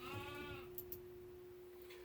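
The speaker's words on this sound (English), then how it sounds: "You can hear the goats in the back are attacking me" A goat bleats once, wavering and drawn out, at moderate distance behind a steady hum, followed by a couple of faint clicks, with no talking.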